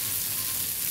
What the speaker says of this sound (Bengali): এরপরে রসুন আর মরিচটা একসাথে ভেজে নিই